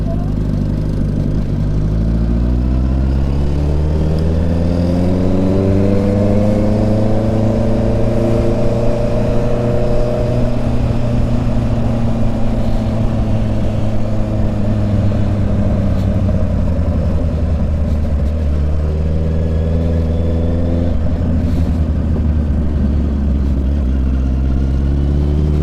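A Honda CB650 motorcycle engine runs loud and close throughout, its pitch rising and falling in long revving sweeps on a busy seaside street in Paraty, with wind noise over the microphone.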